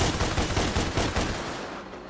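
Gunfire from a spider enemy in DmC Devil May Cry, a rapid stream of loud, close shots in pulsing bursts that fade down toward the end.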